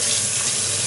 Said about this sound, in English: just rinse my hands off